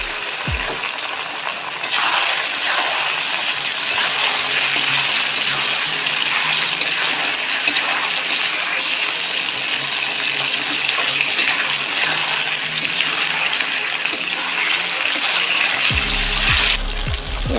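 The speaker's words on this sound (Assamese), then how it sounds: "এতিয়া ইয়াত মাংসখিনি দি দিছোঁ।" Chicken meat cooking in a pan with softened tomatoes for an Assamese chicken curry makes a loud, steady, rushing hiss that holds for most of the clip and then cuts off near the end.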